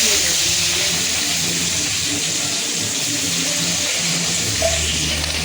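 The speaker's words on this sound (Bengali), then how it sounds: "দেবো রসুন, রসুনটা পুড়ে যাওয়ার আগেই পেঁয়াজটা দিয়ে দেবো।" Garlic and onion frying in oil in a pan while cooking mutton, a loud continuous sizzling hiss close by with faint clatter underneath.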